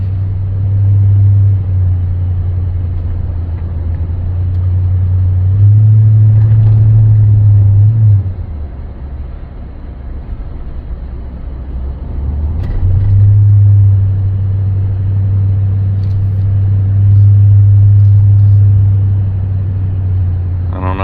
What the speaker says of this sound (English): That's usually the zone where you'll get the V8 drone in the truck.